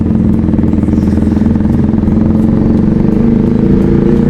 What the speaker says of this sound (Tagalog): Naingay yung motor ba?